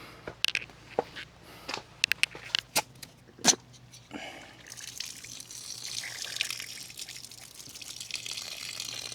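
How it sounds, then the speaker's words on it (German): Water gushes through freshly opened garden irrigation hoses as air is purged, starting with scattered sputtering drips and spurts, then settling into a steady continuous hiss of flow. "Erstmal aufdrehen und warten, bis überall Wasser kommt."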